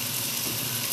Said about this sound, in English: So I've turned the pan down a little bit now, so it's just gently sizzling away.